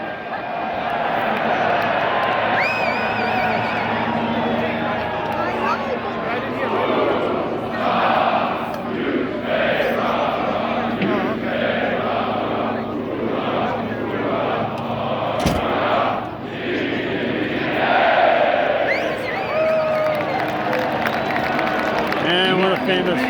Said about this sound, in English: join the 2nd Regiment as they cheer the Army team towards victory with the Rocket